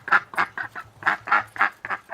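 A duck quacks over and over in quick, nasal bursts, loud and close, a rapid run of calls with a short pause in the middle.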